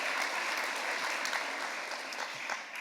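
Audience at a literary award event applauds the advisory committee, even sustained clapping at moderate level throughout, no voices over it.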